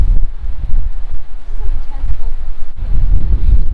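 Loud, gusting wind on a cold hiking trail near Jørpeland, Norway buffets the microphone in a steady low roar, with rumbling bursts throughout and no clear speech.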